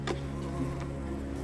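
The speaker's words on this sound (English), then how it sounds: "But why'd anyone want to get stung by a wasp?" A wasp buzzes in the 2005 TV series Ace Lightning, a steady droning hum layered over sustained tonal background sound, with no speech.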